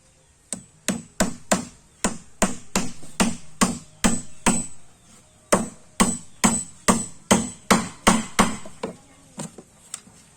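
Two-inch nails hammered into a wooden boat under restoration, a steady run of about two dozen sharp, ringing strikes at a brisk even rhythm, close and loud, with a short pause midway.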